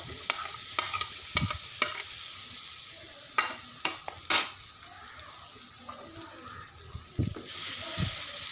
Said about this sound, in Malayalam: അപ്പോൾ ഈ ഒരു പഴം ഈ ഒരു നെയ്യിൽ ജസ്റ്റ് ഒന്ന് വഴറ്റിയെടുത്താൽ മതി